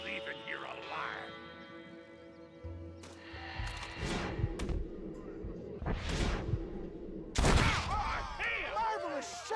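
A Red Dead Redemption shootout: scattered gunshots and sharp cracks go off among shouting voices and swelling music, with a loud blast near the end.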